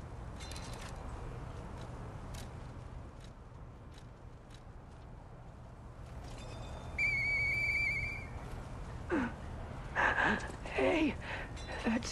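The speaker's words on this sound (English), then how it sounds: "I know that whistle." A clear, steady whistled note with harmonics sounds for about a second amid quiet ambience in the video game Lies of P, followed by brief voice sounds.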